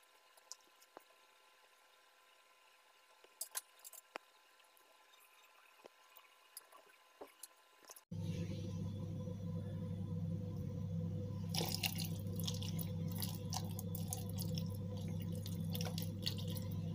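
Water poured into a cooking pot of Bayburt lor dolması, a steady loud rushing pour that starts abruptly partway through after a quiet stretch with light clicks, continuing to the end.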